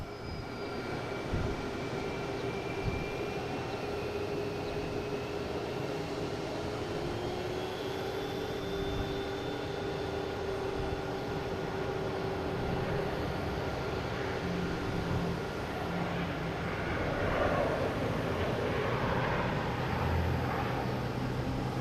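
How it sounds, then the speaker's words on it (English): An American Airlines jet in its 100-year livery comes in to land at Boston Logan International Airport, a steady broad engine roar with a faint rising whine, heard from a distance and swelling slightly near the end. "here's that American Airlines coming in again,"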